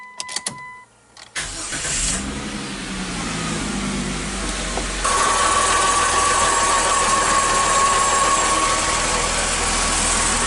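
A car engine, just repaired after a power steering fluid leak, cranks briefly, catches and settles into a steady, loud idle that runs on to the end, with a few clicks before the start.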